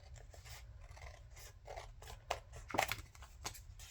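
Scissors snip close by and quietly, in a run of short, irregular cuts with a few sharper clips near the end.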